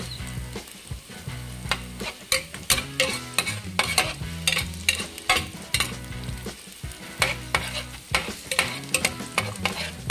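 Garlic, onion and fried milkfish sauté in a pan for squash stir-fry, with a steady sizzle broken by frequent scraping and clinking stirs of a utensil against the pan, close and continuous.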